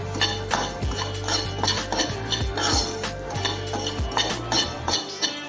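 A utensil scrapes and clinks against a pan as semolina (rava) is roasted in ghee for ukkarai, a steady run of metallic taps and stirring strokes, close and fairly loud, with no voice.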